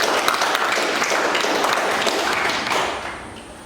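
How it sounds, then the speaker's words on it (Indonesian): Classroom applause for a classmate, a dense steady patter of many hands clapping close by that fades slightly toward the end. "kita beri aplaus kepada teman kita Anwar"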